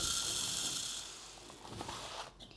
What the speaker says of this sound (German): als erstes mahle ich mir mal die Emma-Körner zu Mehl